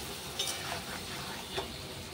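Sesame paste masala with onion, ginger, garlic, charred panch phoron and green chilli is being sautéed for fish in a pan. The result is a soft, steady fry with a couple of faint spatula scrapes, and no one speaks.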